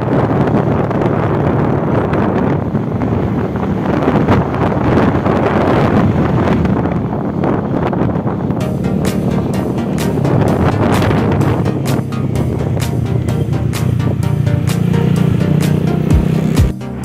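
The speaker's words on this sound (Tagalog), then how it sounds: "Grabe ang lakas ng hangin nito" Strong mountain wind roars steadily across the microphone on a ride through the highlands between Baguio and Sagada, a loud, continuous buffeting rush with gusty surges and no voices.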